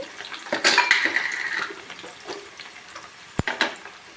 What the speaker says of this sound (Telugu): పచ్చిమిర్చి వీటిని బాగా వేయించుకుందాం మగ్గేదాకా ఆయిల్లో